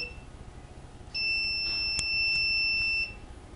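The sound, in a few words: mobile phone message beep from obstacle detector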